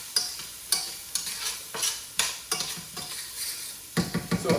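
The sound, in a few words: onion frying and being stirred in a pan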